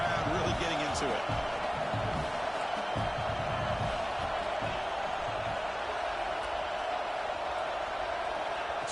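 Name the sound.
football stadium crowd cheering in CFB26 video game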